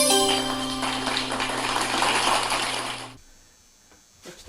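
A ratchet clicks rapidly and steadily for about three seconds while a bolt is run in on an LS electric water pump, then stops, leaving faint handling noises afterward.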